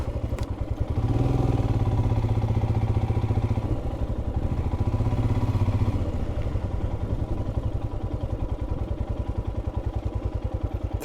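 A motorcycle engine running steadily close by on arrival at Kunkeshwar temple on a coastal ride, a continuous low idling throb with a slight swell in revs around the middle, then settling.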